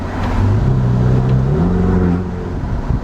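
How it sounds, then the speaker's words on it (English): A 2018 Ferrari 488 Spider's twin-turbo V8 revs loud and close, its pitch climbing and then easing off in one short, full-throated burst with no talking. "I just need to take another listen at that engine."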